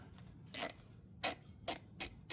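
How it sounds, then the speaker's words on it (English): An Icon ratchet from Harbor Freight working on rear brakes, giving short bursts of crisp metallic clicking, four quick runs separated by brief pauses, close and clear with no talk. "this Icon from Harbour Freight. I'll tell you what, this is a really, really good ratchet."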